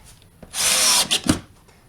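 A power drill drives screws into a bracket while fixing a cut-open wall, giving a single short whirring burst of about half a second, close and fairly loud, with a few small knocks as it stops.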